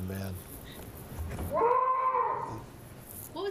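A bleating, goat-like honk from a Tesla's custom horn sound rises and wavers for about a second, loud and close, with a short burst of tones before it.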